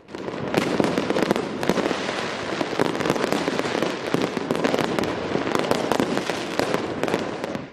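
Dense, continuous crackling and booming of New Year fireworks in a city square in Pristina, Kosovo, many bursts overlapping at a steady loud level with no gaps throughout.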